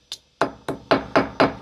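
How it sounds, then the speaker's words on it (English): A wall plug being hammered into a drilled hole in a wall while a retractable hose reel is installed, one light tap followed by five sharp, close, evenly paced hammer knocks, with no talk. "I will actually hammer this plug into the wall"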